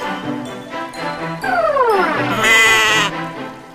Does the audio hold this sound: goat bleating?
yes